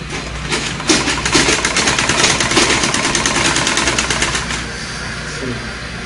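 A sewing machine stitches a skirt's fabric pieces, a rapid mechanical buzzing run for about four seconds that then eases off, fairly close and loud, with no talking.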